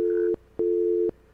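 Phone tone from the video game Sara is Missing, a steady electronic beep pulsing in two long tones separated by short gaps, each ending with a click, loud and clear with no speech.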